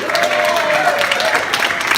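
A community gathering breaks into a short burst of applause, with steady clapping from the crowd and a voice speaking faintly over it.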